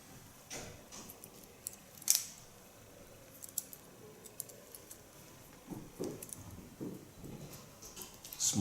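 Scissors snip quietly through hair during a small slice cut technique at a salon, with scattered soft clicks and light handling sounds spread irregularly across a hushed room.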